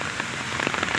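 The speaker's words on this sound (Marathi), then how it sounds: "खूप जास्त पाऊस आला आहे." Heavy afternoon rain pours down on a farm, a dense, steady hiss of drops striking surfaces close by, with no voices over it.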